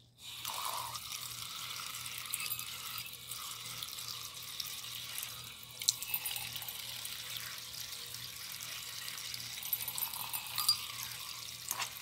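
Water is added to a face remedy mixture, a faint, continuous trickle and splash of liquid running for several seconds with a low steady hum beneath it.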